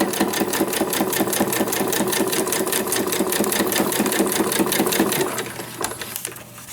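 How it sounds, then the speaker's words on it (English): A sewing machine stitches around the edges of a fabric journal cover made from scraps, a fast steady close-up rattle of needle strokes that slows and stops near the end. "So I'm just stitching around the parameters here."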